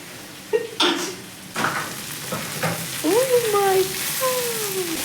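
Sliced okra frying in a hot pan with a steady sizzle, interrupted by a few stirring scrapes, heard close up with some faint tonal sounds in the background.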